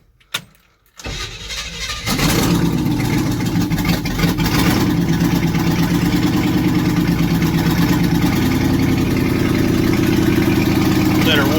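Neglected vehicle engine catching after a brief start attempt, then settling into a loud, steady, close idle as it warms up, with a slight change in pitch near the end and no talk.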